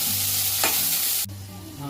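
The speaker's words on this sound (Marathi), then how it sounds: "मिरच्या पण आपण भाजतोय" Green chillies roast in a hot pan with a steady, close sizzle and frying crackle, broken by a brief stir partway through, and no talking.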